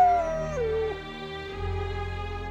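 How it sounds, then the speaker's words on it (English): A wolf howls in the wild in Arizona, a single long wavering cry that slides downward and then holds a low, steady tone, close and clear. "the wolf's howl."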